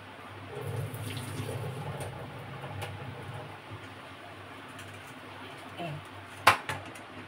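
Excess water is poured out of a cooking pot while preparing a steamed papaya dish, a soft, faint splashing pour early on, then quiet kitchen noise and a sharp metallic clank of the pot near the end.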